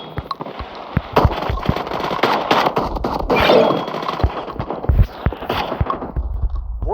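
Automatic shotgun loaded with Dragon's Breath rounds firing in a video game, a loud, rapid string of close blasts with crackling bursts between them.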